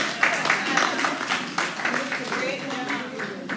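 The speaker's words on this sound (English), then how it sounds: "I think we need to give another round of applause to, she said, Sophia Haynes McCallum." A round of applause at a teachers' association anniversary function, crowd clapping mixed with overlapping voices and chatter across the few seconds.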